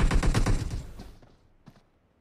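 A fast volley of gunshots in a battle royale video game, loud and close, firing in rapid succession before cutting off, followed by one fainter lone shot.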